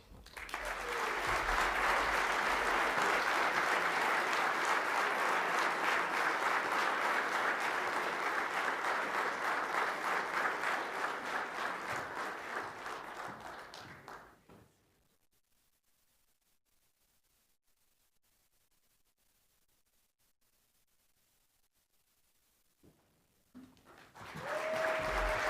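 Loud, sustained audience applause at a lacrosse Hall of Fame induction ceremony fills the hall for about fourteen seconds, then fades into near silence before a voice starts speaking again at the end.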